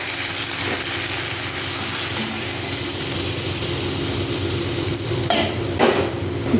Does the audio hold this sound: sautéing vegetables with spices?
yes